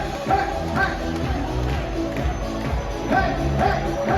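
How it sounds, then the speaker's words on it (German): A party crowd on the Playa de Palma in Mallorca claps hands along in a steady rhythm, the claps blending with loud music and chanting voices all the way through. "Und wir klatschen"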